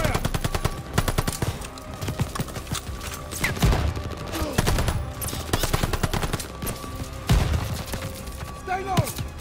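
Rapid bursts of automatic gunfire and single shots in the World War II shooter game Call of Duty: Vanguard crackle loudly and repeatedly, with game voices speaking over the fighting.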